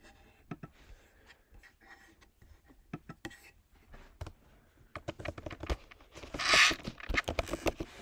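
Computer keyboard keys clack in irregular bursts, sparse at first and then quickening into a denser run of typing, close and alone with no talk.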